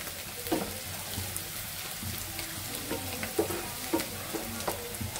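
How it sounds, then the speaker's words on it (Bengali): Onion and garlic fry in a pan as a steady, soft sizzle with occasional light pops and stirring scrapes, fairly quiet and with no talk. "পেঁয়াজ আর রসুনটা একটু ভাজা হলে, হাফ ভাজা হয়ে গেছে"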